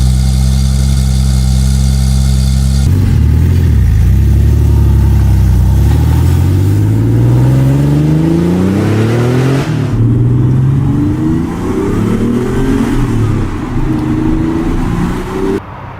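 A Porsche 911 Turbo, a single-turbo, rear-wheel-drive 964-era model in the Need for Speed game Porsche Unleashed, idles loudly before its engine climbs through long rising revs with a brief shift, sounding close and continuous without any voices.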